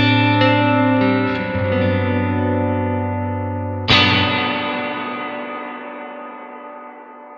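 Distorted guitar chords ring out through a reverb pedal on its large room setting, each strum blooming into a long, washy tail that fades slowly, with a fresh hit midway.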